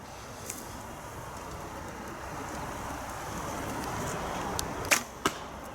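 An arrow with a 145-grain point is shot from a 1968 Ben Pearson Signature take-down bow outdoors, a couple of sharp snaps and thuds standing out briefly over quiet wind-like background hiss.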